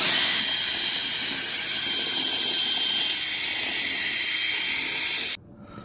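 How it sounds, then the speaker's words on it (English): A drill fitted with a gray sanding disc sands car headlights with an even, high-pitched whir that holds steady at close range for about five seconds, then cuts off abruptly. "we're going to sand the headlights"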